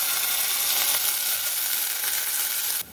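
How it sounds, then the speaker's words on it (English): Grated onion and garlic sauté in a tablespoon of hot oil for a pizza topping, giving a steady, close, bright sizzle that holds evenly and then drops off abruptly just before the end. "Gonna go ahead and let them saute for about 1 minute before we add the rest of the ingredients"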